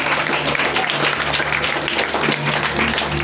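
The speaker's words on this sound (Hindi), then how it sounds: "ताली बजा दीजिए इन लोगों के लिए।" Church congregation applauding to welcome visiting relatives at a Sunday worship gathering, a dense, steady wash of clapping from many hands for several seconds.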